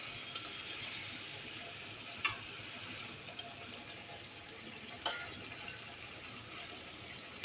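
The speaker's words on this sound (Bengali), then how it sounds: "মাছের ঝোলটা একটু ফুটুক, তারপর নামিয়ে ফেলবো" A pot of fish curry simmers on the stove, giving a soft, steady bubbling hiss with a few faint clinks and ticks scattered through, all quiet and close with no talking.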